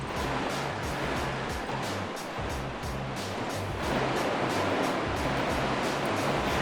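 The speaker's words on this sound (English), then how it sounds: "The rip roaring rapids." Roaring river rapids rush toward a waterfall, a dense, continuous wash of turbulent water loud and close throughout, with a rhythmic low pulsing underneath.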